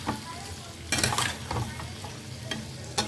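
Spice paste with coriander powder and a splash of water frying in a pan, a steady sizzle broken by bursts of spoon scraping and stirring against the pan.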